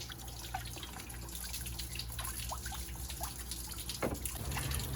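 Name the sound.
garden hose water flushing backward through a Toyota Corolla radiator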